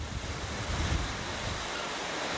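Storm wind gusts and pounding surf during the March 1993 no-name storm at Gulf Harbors, Florida, a continuous loud roar of wind buffeting the microphone over breaking waves.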